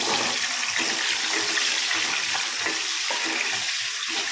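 Amla, Indian gooseberries, frying in a generous amount of hot oil for pickle, giving a steady, loud broadband sizzle that holds without a break throughout.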